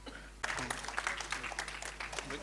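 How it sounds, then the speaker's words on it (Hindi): Audience clapping erupts at a film trailer launch event in a hall, a dense burst of applause starting abruptly and holding steady at moderate loudness. "इस टीम के लिए एक बार जोरदार तालियां हो जाएं"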